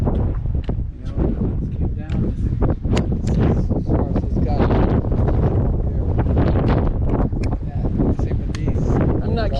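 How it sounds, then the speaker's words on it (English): Strong wind gusts through a narrow sandstone slot canyon, Cathedral Wash, roaring and buffeting the microphone continuously at close range, with voices talking faintly underneath. "The wind is too strong."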